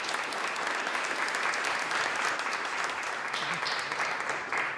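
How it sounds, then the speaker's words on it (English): A room full of audience members applauding community members at a keynote event, sustained, even clapping that fills the space throughout without anyone speaking. "Let's give them a round of applause and thanks."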